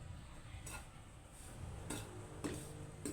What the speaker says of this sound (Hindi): बेसन और सूजी को इकट्ठे आपने भून लेना है